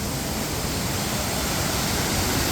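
Balagbag and Nonok Falls in Real, Quezon pour with a dense, steady roar of rushing water, loud and constant with no breaks, no talking.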